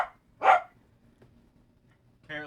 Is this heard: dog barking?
yes